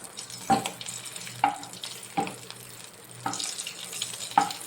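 Ingredients frying in a pan with a little turmeric and salt, stirred until golden for a tomato and egg curry; a steady sizzle runs throughout, broken by several sharp scraping knocks of the spoon against the pan.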